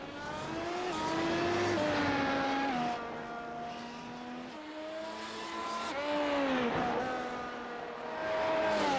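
Formula race car in a racing video game, a high engine whine rising and falling through gear changes as it laps, steady and fairly loud, with brief dips where it lifts off the throttle.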